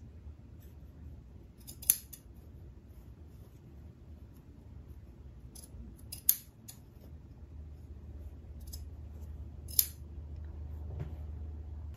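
Scissors trim fabric along a stitch line on a sewing yoke, giving three crisp, separate snips spaced several seconds apart over a low, steady room hum, with no talking.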